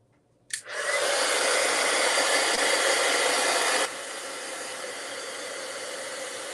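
A heat tool switches on with a click and blows a loud, steady airy rush while gently drying an acrylic paste painting, then drops to a lower setting partway through and keeps running with no talk.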